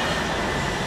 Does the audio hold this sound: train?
yes